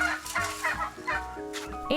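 Turkeys gobbling and chickens clucking on a farm, several birds calling in overlapping bursts at close range, with no speech over them.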